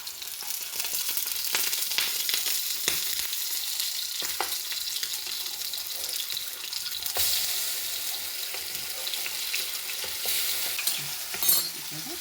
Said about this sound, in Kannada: ಒಳ್ಳೆ ಕೆಂಪು ಕಲರ್ ಬರುವಷ್ಟು ರೋಸ್ಟ್ ಮಾಡ್ಕೊಂಬ